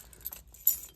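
A set of car keys jangles close by for a 1989 Ford Mustang with a Coyote engine swap, light metallic clinks in two short bursts with a quiet pause between.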